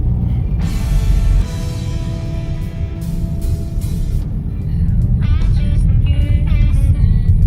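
Road traffic with cars passing in Pagsanjan, Laguna, Philippines: a loud, continuous engine rumble with vehicles swelling by close at hand, no speech.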